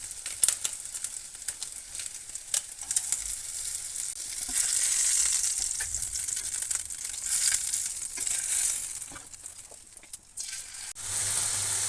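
Crackling, hissing fry of chicken in a hot pan, with scattered pops and rustling that swell and fade over several seconds.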